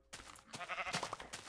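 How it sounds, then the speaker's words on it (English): Minecraft sheep bleating in the video game, a few short wavering bleats close up in a quick burst over faint game background. "Punch the sheep."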